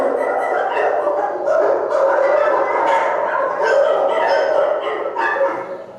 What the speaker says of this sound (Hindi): मंत्री, इन पर 3-4 शिकारी कुत्ते छोड़ दो